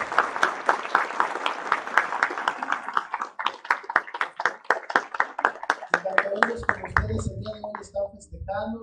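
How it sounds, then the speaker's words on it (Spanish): An audience at a professional degree graduation ceremony claps in sharp, distinct, fairly regular beats that thin out toward the end, and voices and murmuring come in over the last few seconds. "que les dedicaran un fuerte aplauso a ellos"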